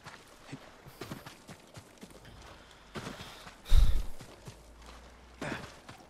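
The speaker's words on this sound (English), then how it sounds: "Come on, Digital Deluxe Horse. Let's go." A horse gallops in the video game Ghost of Tsushima, irregular hoof thuds and clops with a heavier impact partway through, heard without talk.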